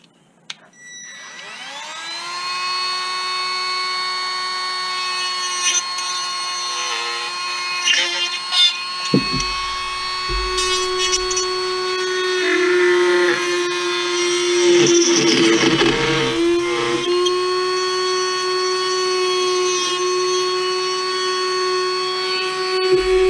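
A rotary power tool grinds out part of a plastic Bruder John Deere 9620RX model tractor, a steady high whine that starts abruptly and holds loud and close for over twenty seconds, with brief dips and rougher bursts as the bit bites into the plastic.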